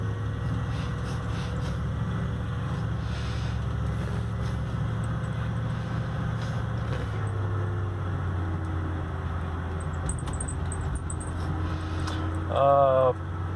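A 1971 Lincoln Mark III cruising at around 40 to 45 mph gives a steady low engine and road drone with a faint shift in pitch midway, and someone speaks briefly near the end.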